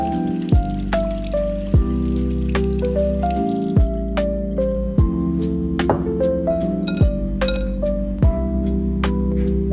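Peaches washed one at a time under a running kitchen tap, with steady loud water hiss broken by repeated clinks and knocks of fruit against the sink or bowl, no talk.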